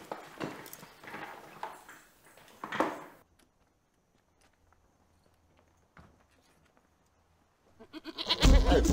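A goat bleats in a few rough, close cries over the first few seconds, then falls to near silence before a loud burst of noise at the end.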